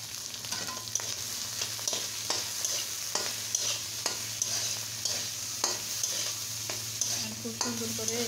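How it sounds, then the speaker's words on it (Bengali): Onion stalks, potatoes and shrimp fry in a pan, a soft steady sizzle punctuated by repeated scraping stir strokes at a regular rhythm, fairly quiet and close, with no talking. "খুব সুন্দর করে এটাকে আমি ভেজে নেব চিংড়ির সাথে"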